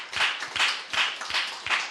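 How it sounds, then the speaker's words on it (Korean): A church congregation claps in a steady rhythm after a choir hymn, about five or six sharp, close claps in quick succession, loud and distinct with nobody speaking. "하나님께 영광의 박수 한번 돌리겠습니다."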